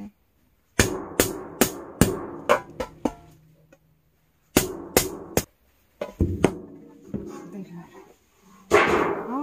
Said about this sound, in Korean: 깡통이 소리가 너무 시끄러워